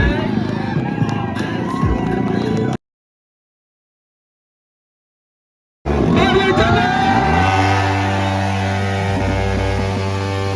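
A motorcycle stunt show at the Sagara Marikamba temple fair: loud, close engine roar and revving amid crowd noise and a voice speaking, with the sound cutting out completely for a few seconds midway.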